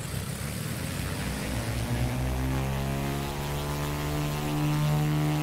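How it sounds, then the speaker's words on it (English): Small propeller airplane beginning its takeoff roll on a runway at PHOG in Hawaii, a steady loud engine drone with rising harmonic whine that swells toward the end, heard from inside the aircraft with no talk. "Runway heading, and we're ready to roll."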